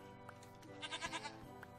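A goat in Minecraft gives a short, wavering bleat in the middle of a quiet stretch, fairly faint and alone.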